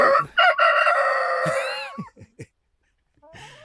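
Chickens crow loudly in a long drawn-out call, followed by a few short clucks, a pause, then softer clucking near the mic, in the Outer Hebrides.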